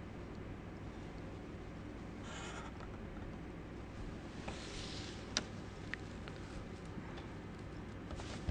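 A pencil scratches across paper in quick, faint strokes while a hexagon is sketched freehand for an engineering graphics drawing, with soft ticks and light taps over a quiet room hum.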